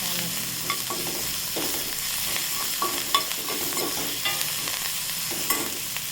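Food sautéed with salt in a pan gives a continuous close sizzle, broken by repeated stirring scrapes and soft knocks of a spatula at an uneven rhythm.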